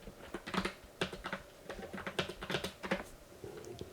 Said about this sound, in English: And then I just manually added that in just by typing it in.